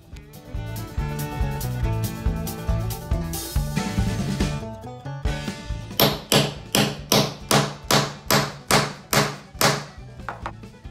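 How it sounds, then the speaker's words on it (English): Hammer blows set rivets for speed hooks on Allen Edmonds Dalton boots, sharp metallic strikes that begin irregularly and then settle into a steady run of about a dozen evenly spaced, ringing taps, close and loud with no talk. "as you're setting these rivets, you can hear a tone change with your hammer blows"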